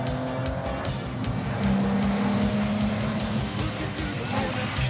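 Chevrolet Corvette C8 engine roaring on winding Jura mountain roads, a loud, continuous throaty drone that rises in pitch as it accelerates, close and dominant, with no talk over it.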